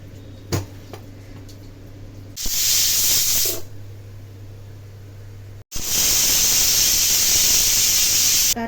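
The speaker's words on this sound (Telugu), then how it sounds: "ఇప్పుడు ఒక 4 విజిల్స్ వచ్చేంత వరకు ఉడికించుకోవాలి" A pressure cooker on the stove holding vegetables with salt and water for pav bhaji lets out loud steam hisses: one short burst, then after a pause a longer sustained whistle-like jet of steam, close and harsh.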